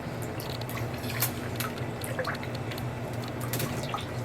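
Running water in a crocodile monitor's enclosure, a steady trickle with scattered drips and splashes over a low hum, close and continuous.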